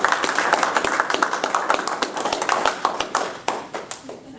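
Scattered audience clapping after a surveying capstone presentation, a modest group of hands starting together and then trailing off into sparse, separate claps, with some voices underneath.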